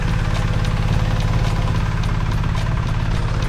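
A BMW R1300GS motorcycle idles loudly and steadily up close with a constant low engine rumble while its ride height is raised. There is no talking.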